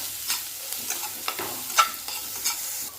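Chopped onion with a little salt stirring and sizzling in hot oil in a pan, a close, steady crackle broken by a series of scraping stirs.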